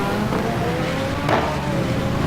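Race car in the GT2 series at Rouen Les-Essarts, a video game, its engine droning steadily as the driver gets heavy on the throttle and smokes the tires, with a brief burst of tire noise midway through.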